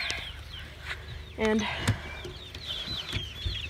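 Chickens cluck and squawk nearby in short bursts, with a brief spoken word and soft rustling and footsteps around them.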